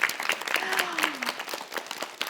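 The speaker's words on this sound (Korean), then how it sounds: "자, 박수." Applause from a studio audience at a televised Korean lecture, a soft, steady patter of many hands clapping at moderate distance, with a faint voice briefly rising over it.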